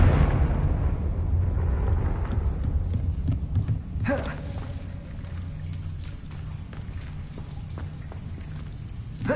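A Confringo spell blast in Hogwarts Legacy: a loud explosive burst opening the clip, then a long crackling, rain-like rumble of debris that fades, with a second sharper impact partway through.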